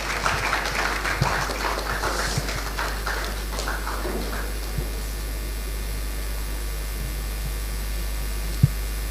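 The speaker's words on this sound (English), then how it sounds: "a round of applause for him, I beg" Audience applause at a pitch competition, a short round of clapping that fades out after about four seconds, leaving steady mains hum and a few isolated knocks.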